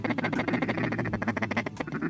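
A bunch of mallard ducks quacking in a farm field during a waterfowl hunt, a rapid, continuous chorus of loud, close quacks.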